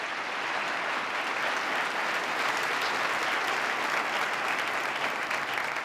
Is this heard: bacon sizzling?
no